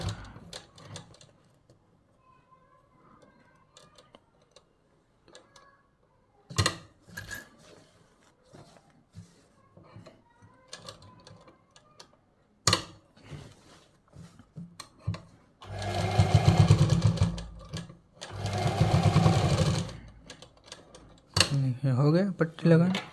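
Handling clicks and rustles come first, then a sewing machine stitches a strip onto a kurta in two bursts of steady whirring, each a few seconds long, with a third short run at the end.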